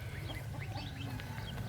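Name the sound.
Muscovy ducks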